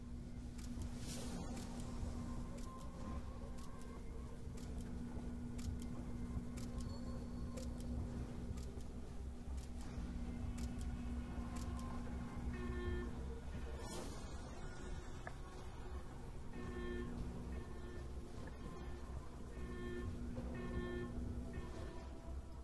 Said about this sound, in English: the washing machine's going to turn on, and all you have to do is just wait for the washing machine to turn off